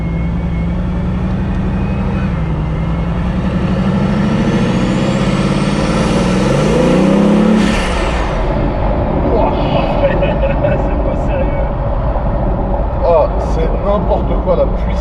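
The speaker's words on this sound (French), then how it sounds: "Le bruit des turbos, c'est n'importe quoi." Bugatti hypercar with the engine mounted just behind the cabin, heard from inside during a Gumball 3000 drive: a deep, steady engine drone with a rising, whistling turbo note that peaks and then drops into broadband road and wind roar.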